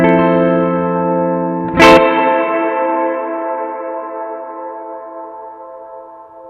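Guitar chord through a Strymon BlueSky reverb pedal with decay set to maximum, struck once and then ringing on in a long, smooth reverb tail that fades only slowly over several seconds, with no voices.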